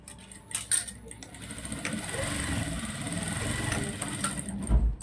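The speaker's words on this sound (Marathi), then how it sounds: "ती पण मी तुम्हाला दाखवून देते की शिलाई प्रॉपर कशी टाकायची त्याच्यावरती" A sewing machine stitches tucks into a blouse, a steady mechanical run of moderate loudness through the middle of the clip, with small clinks and handling noises at the start and end.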